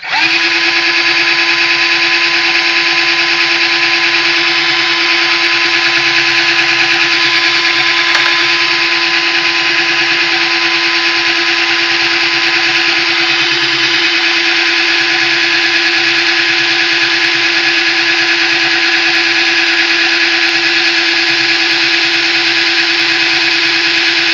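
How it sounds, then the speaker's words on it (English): A power drill spins a stirring attachment through a hard cider mixture, giving a steady, loud, unbroken whir that holds at one pitch the whole time with no talk over it. "I'm going to see if I can't stir this up a little more"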